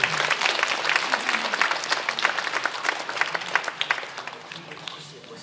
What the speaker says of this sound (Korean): 우리 주님께 다시 한번 영광의 박수 드리겠습니다